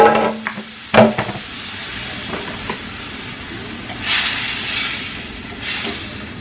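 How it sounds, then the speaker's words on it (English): Shrimp dropped into melted butter in a hot pan, a few clatters as they land, then a steady close sizzle with swelling bursts of frying noise. "So I'm just gonna just dump the shrimp into the melted butter."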